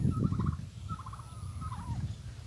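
A turkey at a rural Philippine house gobbles in bursts of rapid warbling calls, ending in a wavering trill, over low rumbling background noise.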